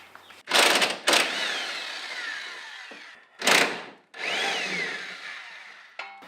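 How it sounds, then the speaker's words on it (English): A power tool drives out the top strut bolts with a 16 mm socket on an Audi/VW rear suspension, in four loud whirring bursts of a few seconds each, separated by short pauses. "you just want to take your 16 millimeter socket and take out the top 2 bolts"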